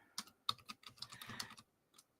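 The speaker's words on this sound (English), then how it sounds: "So I'm going to type in here," Quick, uneven bursts of keystrokes on a computer keyboard, close and fairly quiet, with brief pauses between runs of typing and no speech.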